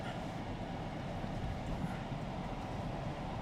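A car driving along a road, heard from inside as a steady low rumble and road noise with no break, no voices over it.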